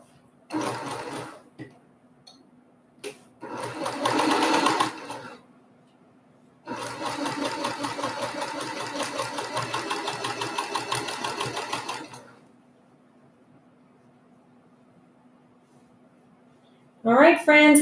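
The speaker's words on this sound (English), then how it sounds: "I'm going to take these to my sewing machine and I'm going to sew a quarter of an inch." Sewing machine stitching quilt pieces for a sampler block at a quarter-inch seam, running in two loud bursts of steady rapid whirring, a short one and then a long one, with brief stops and a person talking nearby.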